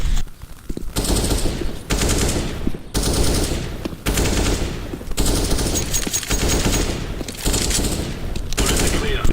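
Counter-Strike: Global Offensive rifle fire comes in loud, close automatic bursts of about a second each, separated by brief pauses, repeating steadily as in a tap-and-shoot practice drill.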